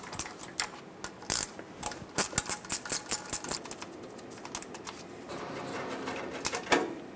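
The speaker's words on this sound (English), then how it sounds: "Now take an 8mm socket, loosen up the two bolts that hold this onto the transmission." A ratchet wrench with an 8mm socket loosens the two bolts holding a neutral safety switch onto the transmission of a Ford E-350 van, giving rapid bursts of close, crisp clicking with brief pauses between runs.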